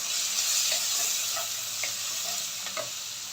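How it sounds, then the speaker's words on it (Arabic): Onion, colored peppers and fish mixture stir-fried in a hot pan, a steady loud sizzle with occasional soft scrapes of the spoon, close and continuous, no talking. "اديها تشويحه كده"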